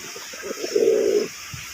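Golla pigeons in a loft give a soft, low coo that swells into one drawn-out, throaty call, with faint rustling around it and no speech.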